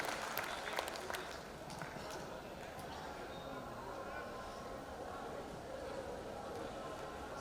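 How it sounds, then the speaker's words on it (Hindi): A hall audience at a Hindi poetry gathering claps to welcome a poet, a faint, distant patter of applause with low rumbling room noise. "मैं चाहता हूं पूरा सदन एक बार हाथ उठा के ताली बजा के आमंत्रित करें डॉक्टर"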